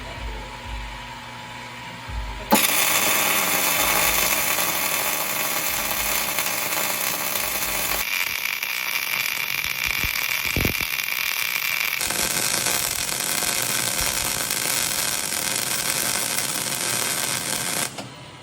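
A circular perimeter weld runs on a rotary welding positioner, a steady crackling hiss close by that lasts most of the clip, with a short change in tone partway through.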